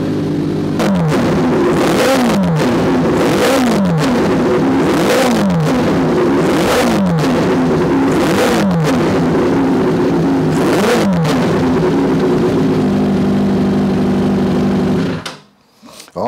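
A Suzuki Bandit cafe racer motorcycle engine revs repeatedly on a dyno, about nine rising-and-falling throttle sweeps in steady rhythm, loud and close, before the engine cuts off abruptly near the end.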